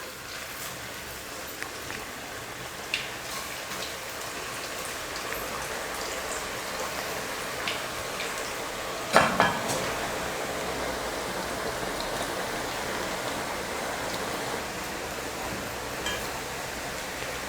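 Raw banana slices sizzling in hot coconut oil while making Kerala banana chips, a steady hissing crackle throughout with a brief louder bubbling burst midway.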